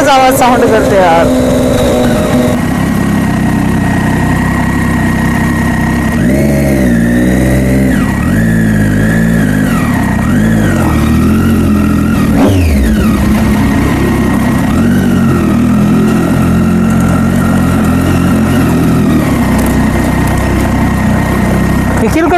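A motorcycle engine runs loud and close during a ride, its pitch climbing and falling as it revs, with a voice faintly under the steady roar.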